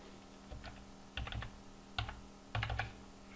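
Keys on a computer keyboard are tapped in short bursts to enter a code: quiet, close clicks arriving in small clusters with brief pauses between them, no voices present.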